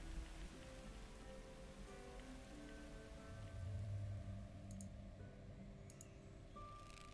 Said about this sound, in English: I told the rain to go away.